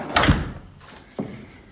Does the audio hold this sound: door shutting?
yes